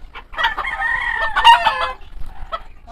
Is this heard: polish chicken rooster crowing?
yes